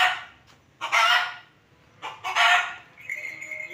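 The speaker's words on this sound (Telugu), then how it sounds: "ఆ కోడి వరుతూనే ఉంది" A rooster crows twice in close succession, loud and near, each call a long drawn-out cry, followed by a softer clucking call from fowl in a rural yard.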